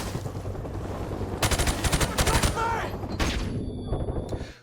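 Automatic gunfire and explosions in the video game Call of Duty 4: Modern Warfare, dense rapid bursts of shots that rise into a loud barrage midway, then drop to a rumbling tail with scattered fire.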